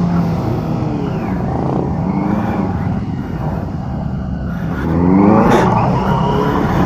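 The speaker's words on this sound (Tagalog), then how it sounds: "ganda ng tunog nito kasi inline 4 to." A Benelli TNT600i inline-four motorcycle engine drones steadily under wind rush on an expressway ride, rising in pitch and loudness near the end as it revs.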